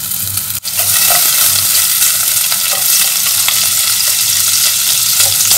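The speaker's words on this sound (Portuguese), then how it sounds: "Vamos deixar o bacon fritar um pouquinho." Bacon fries in lard inside an electric pressure cooker pot, a loud, dense, continuous sizzle close up, with a brief knock near the start and faint stirring movements.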